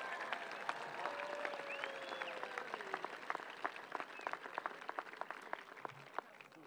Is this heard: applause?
yes